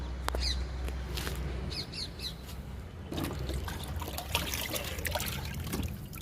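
Liquid fertilizer trickles onto the soil bed around a bitter gourd plant in a home garden, a soft steady pour heard with birds chirping in the background.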